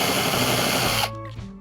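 A power drill bores shallow pilot holes for PowerPole Micro mounting hardware on a Mirage Passport 12 kayak. One loud, close, whirring burst lasts about a second, then the motor cuts off and spins down.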